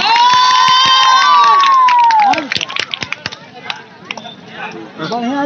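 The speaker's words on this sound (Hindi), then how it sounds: "गनी पहलवान के नाम पर जोरदार तालियों से स्वागत" A crowd cheers at a wrestling bout featuring the wrestler Gani: a long sustained shout rings out over scattered hand claps, then bursts of shouting and chatter follow as the noise becomes patchier.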